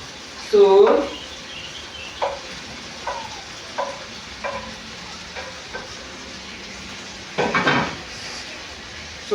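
Potatoes tipped into a pan of frying sausages, a sizzling burst with clatter at the start, then lighter scrapes and stirring knocks over a steady background hiss, with another clattering sizzle near the end.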